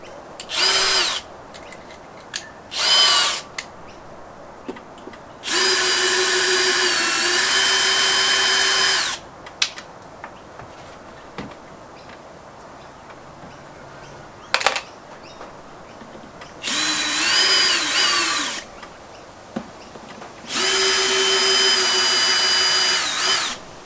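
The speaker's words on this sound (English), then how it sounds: "I'm going to use a battery drill to take the screws out." A cordless drill whines loudly in several separate bursts removing screws from a Fender Blues Jr amplifier, some short and some held for a few seconds, with quiet handling noises between them.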